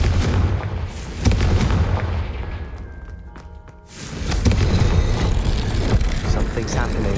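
Fiery blasting spell explosions in a Hogwarts video game, a series of heavy booming thumps and crackling bursts, loud and close, with a brief quieter gap before the blasts resume.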